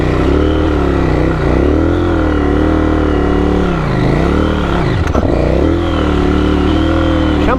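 Off-road motorcycle on Dunlop Trailmax Mission tyres, engine revving hard and continuously as it struggles for grip in loose terrain, pitch rising and falling in surges, loud and close with no talk.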